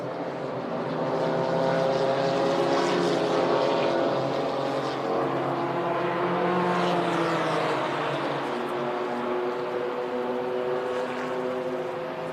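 GT4 race cars at the Shanghai circuit in a China GT Championship race, engines droning steadily and loudly as they sweep through a double left-hander together, a continuous layered roar with shifting pitch and no voices.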